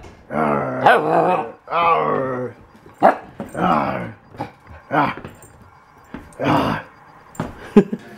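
A dog barks and growls in short, loud bursts close by, a string of gruff yaps and throaty rumbles separated by brief pauses.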